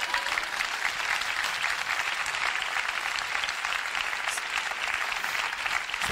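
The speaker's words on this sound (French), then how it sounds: "On l'applaudit." An audience at a motivational talk applauds, a dense, steady wash of many hands clapping at even loudness for about six seconds with no talk over it.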